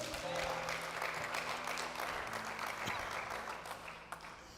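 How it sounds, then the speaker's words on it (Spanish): A church congregation at a Spanish-language sermon claps for Jesus, a sustained, fairly quiet wash of applause with held tones, likely organ or keyboard, underneath, tapering off toward the end. "Denle un aplauso a Jesús"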